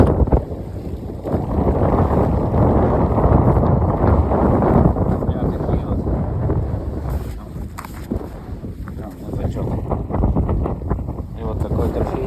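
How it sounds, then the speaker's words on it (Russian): Strong wind gusts across an open frozen lake during a snowy winter ice-fishing outing, a loud, continuous buffeting rush against the microphone that eases briefly before surging again. "Дует там сильно."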